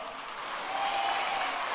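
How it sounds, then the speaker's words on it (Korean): A church congregation applauding during a Sunday worship service, a steady wash of clapping that holds at even loudness through the whole stretch with no voices over it. "우리 성도님 너무 기뻐하시는데요. 박수를 치시는데요."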